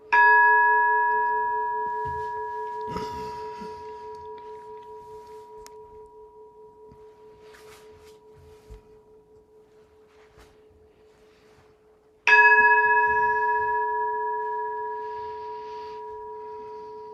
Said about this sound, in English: The sound of the ancient temple bell.